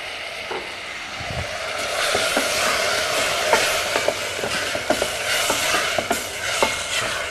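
Tomato sauce sizzles steadily in a pan on the stove, with a continuous hiss broken by sharp clicks and scrapes from a utensil stirring it, close and moderately loud.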